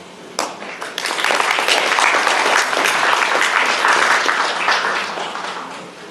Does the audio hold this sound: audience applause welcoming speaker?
yes